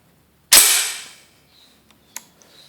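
A Hatsan 14-inch semi-auto air gun dry-fired with no pellets gives one sharp, loud crack that rings out and fades, then a few faint mechanical clicks, close up with no talking.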